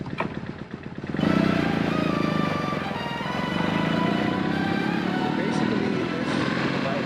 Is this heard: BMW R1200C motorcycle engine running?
yes